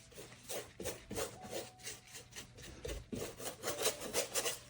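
A brush strokes varnish in crisscross passes over an acrylic painting, a soft, steady rubbing rasp repeating in quick back-and-forth sweeps, close up and alone.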